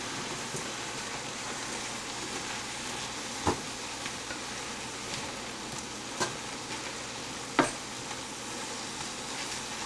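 Vegetables and Korean mushrooms simmering in a pan, giving a steady close sizzle with a few faint knocks and clicks scattered over it.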